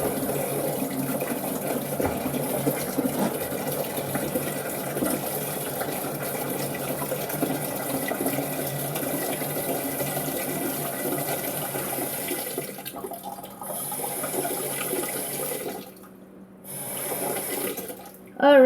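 Cold tap water running into a humidifier tank, a steady splashing fill stream lasting many seconds with brief pauses near the end, no talking over it.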